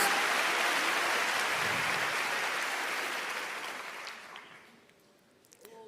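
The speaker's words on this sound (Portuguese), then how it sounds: "aplauda ao Senhor" A church congregation applauds in a dense, loud burst of clapping that gradually dies away into quiet, with a few scattered sounds at the end.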